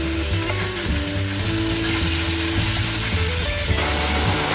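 About 300 grams of thin, wide-cut meat slices fry hard in a pan for chop suey, a loud, continuous close-up sizzle with no speech over it.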